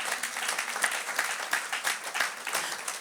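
A church congregation at an online Easter service applauds steadily, a moderately loud, even clapping that carries on throughout.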